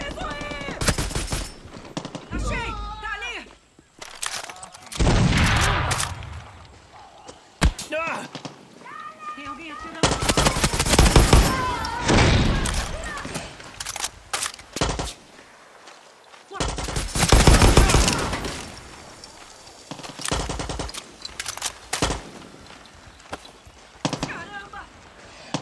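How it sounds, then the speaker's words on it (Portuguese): Enemy gunfire in Far Cry 6, bursts of rapid shots recurring in loud clusters throughout, mixed with game effects while someone talks excitedly over the action. "Nossa, os caras tá fuzilando sem dó"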